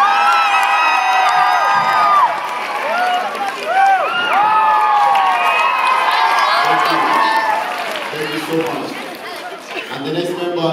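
A crowd cheers, whoops and shouts loudly and continuously throughout, with excited voices and children's shouts layered over a dense roar at an acrobatics show.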